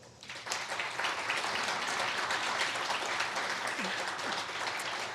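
Audience applause for the speakers at an event on engaging African American males in ending gender-based violence, a full room clapping steadily at moderate distance, rising quickly and holding for several seconds.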